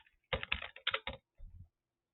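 Someone types on a computer keyboard in quick bursts of close, crisp keystrokes, followed by a short pause and a final softer flurry, with quiet around it.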